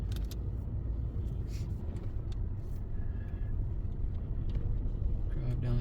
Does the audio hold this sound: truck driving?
yes